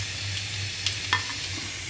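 Anchovies fry in hot oil for nasi goreng, a steady close sizzle broken by a couple of faint light clinks of stirring, with no talking.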